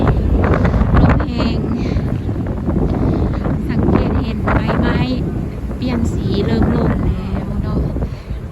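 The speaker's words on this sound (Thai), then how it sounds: "ตอนนี้ลมเนาะรู้สึกว่ามีลมหลาย" Strong gusty wind buffets the microphone outdoors in Japan in late afternoon, a steady loud roar with rumbling bursts throughout.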